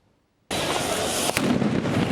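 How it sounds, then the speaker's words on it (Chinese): After a short silence, a loud burst of crackling explosions erupts and continues densely, with a sharp bang about a second later, at a street protest against inflation in Athens, Greece. "爆炸声一直响起，抗议现场一直出现火粉甲火光"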